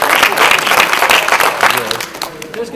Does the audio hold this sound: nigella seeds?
no